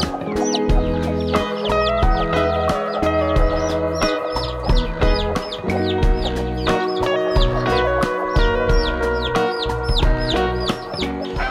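Newly hatched chicks on a free-range chicken farm peep and chirp without pause in a dense, close chorus, with clucking adult hens mixed in and no talk.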